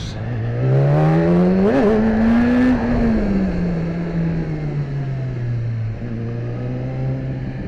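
A BMW S1000RR sportbike on a back road revs hard in first gear, its loud, close engine note climbing steeply, peaking, then easing into a steady high drone as it holds speed.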